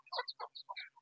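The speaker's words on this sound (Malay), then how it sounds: "Ni ayam kampung tapi tak tahu baka apa ni." Village chickens of an unknown breed cluck in a short run of quick, close calls, quiet and alone, in a coop yard built from scrap materials.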